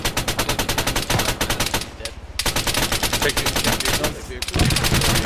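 Rapid automatic gunfire in Arma 3, loud and close, with dense bursts running almost the whole time and one brief pause in the middle, no talk over it.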